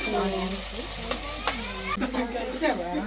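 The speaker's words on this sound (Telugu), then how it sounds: "ఆనియన్స్ అయితే చక్కగా ఫ్రై అయిపోయినాయి" Onions frying in a pan while being stirred, a steady loud sizzle with a few sharp scraping strokes of a spoon against the metal.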